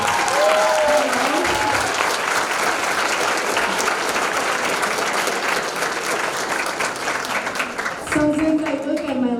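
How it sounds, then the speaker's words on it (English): A gala audience at a Hispanic scholarship fund event breaks into loud, sustained applause for an honoree, with a voice speaking over the start and again as the clapping fades at the end. "can we get a round of applause for Lucy?"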